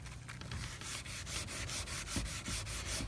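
A grip pad scrubbing an old varnished wooden chair, with steady back-and-forth rasping strokes in a quick, regular rhythm, close and continuous.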